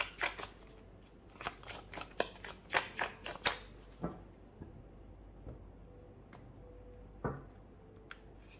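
Tarot cards shuffled by hand in a quick burst of crisp riffling flicks, then slowing to scattered soft slides and single taps as cards are drawn and laid down, close and fairly quiet.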